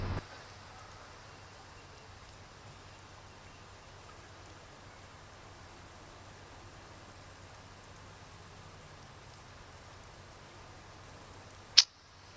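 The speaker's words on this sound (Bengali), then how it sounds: "কিচ্ছু দেখতে পারতেছি না আমি, এত বৃষ্টি।" Heavy rain in Euro Truck Simulator hisses steadily and faintly throughout while a Volvo truck is driven from Istanbul to Edirne, and a single sharp click sounds just before the end.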